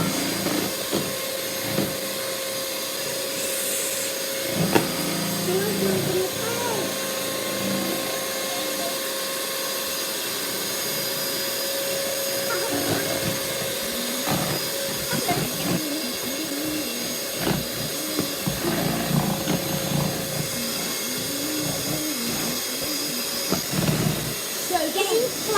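An electric mixer whips coconut flour cake batter at high speed, a steady loud whirring drone that runs throughout, with people talking over it now and then.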